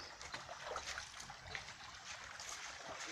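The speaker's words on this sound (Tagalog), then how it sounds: "Itong bukal na ito ay gawa sa adobe." Faint, steady trickle of water running from an old adobe spring, a soft continuous dribble and splash heard close in a quiet outdoor setting.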